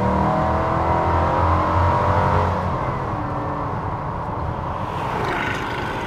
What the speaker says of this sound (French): je vous parlais tout à l'heure du moteur V8 Corvette, et bien je vous confirme, il y a le bruit